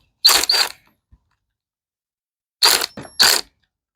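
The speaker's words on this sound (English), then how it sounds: "I guess I have to loosen up these carb bolts in order to get that last bolt." A hand ratchet loosens carburetor bolts on an Echo PE225 edger, two quick clicking bursts, a pause, then three more, close and loud against near silence.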